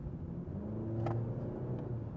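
A Honda Civic Oriel with a 1.8 engine and Prosmatec automatic gearbox under full throttle, a steady loud rumbling drone that builds slightly, heard alone without talk.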